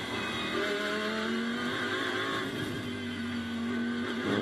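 Onboard a Lamborghini GT race car lapping Magny-Cours in qualifying, the engine loud and close, revving through rising and falling pitch sweeps as it shifts gears and brakes for corners.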